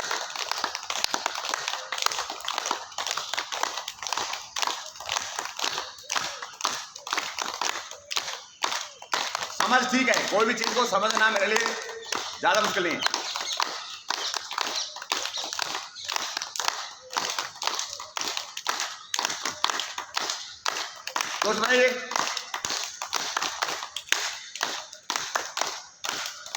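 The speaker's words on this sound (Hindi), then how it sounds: "जोर से ताली बजाना है" A group claps loudly during a yoga practice session, sharp rhythmic hand claps repeating steadily throughout while an instructor and participants speak between and over the claps.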